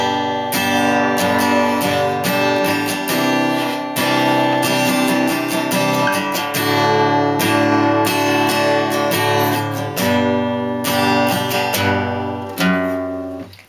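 Acoustic guitar strummed steadily through a song verse chord progression, full and close, with a short single-note walk-down to G between chords and no voices.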